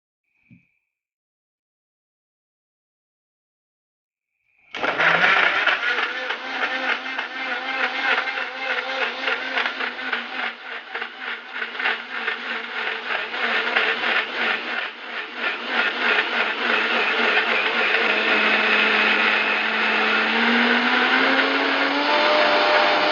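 A blender runs loud and steady for about eighteen seconds, grinding jackfruit seeds with milk into a shake, starting abruptly after a brief click and near-silence, its whirring pitch rising slightly toward the end.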